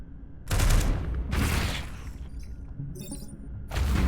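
Artillery barrage in the turn-based strategy game Into the Breach, heavy booming blasts arriving in loud bursts with crackling debris and rumbling impacts, pausing briefly before another strike.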